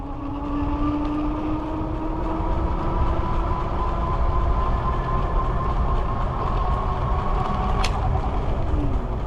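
A Rad Mini folding 750-watt e-bike ridden at full throttle: a loud, continuous rush of wind and road noise with a steady electric motor whine that slowly shifts pitch, no voices.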